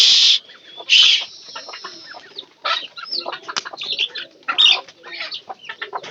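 Chickens and a rooster cluck and squawk repeatedly while being fed, with busy overlapping calls and a few louder squawks close by.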